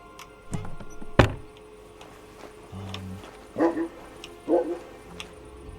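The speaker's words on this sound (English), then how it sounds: "Shut up, dog." A dog in the video game Kingdom Come: Deliverance 2 gives a few short, mid-distance barks and yips, separated by pauses and a dull thunk, with no talk over them.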